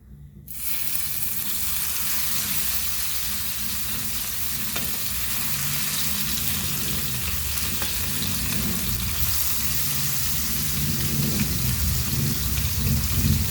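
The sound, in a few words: sole fish (lepo) frying in hot oil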